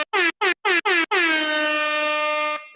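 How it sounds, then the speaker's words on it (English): Loud air horn: four short blasts in quick succession, then one long sustained blast lasting over a second, close and piercing. "did they already plug my air horn in?"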